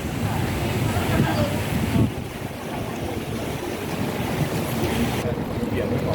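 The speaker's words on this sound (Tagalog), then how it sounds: "Mahangin siya." Gusting wind buffets the microphone with a broad, rushing roar, steady and loud throughout, in cool weather around 18 degrees in Taipa, Macau.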